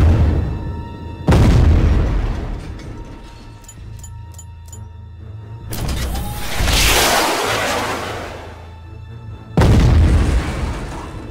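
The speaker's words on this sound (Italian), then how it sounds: "Questo robot qua, ad esempio, ha i lanciamissili e anche delle altre bombe, cioè queste." Missile launches and bomb explosions from a robot in the video game Dual Gear, with loud booming blasts near the start and end and a whooshing rush in the middle, over a low game drone.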